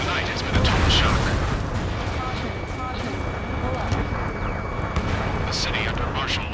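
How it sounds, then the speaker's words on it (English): In Ace Combat 7: Skies Unknown, scattered gunfire bursts and booming impacts crack over a rumbling jet roar in a city battle, with voices talking throughout. "Gunfire and the roar of jets echoing through the streets."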